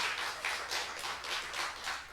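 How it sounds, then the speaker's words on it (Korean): A church congregation claps together in a steady, continuous patter of many hands during a Wednesday prayer service, moderately distant and without talk. "박수 한번 쳐드리죠"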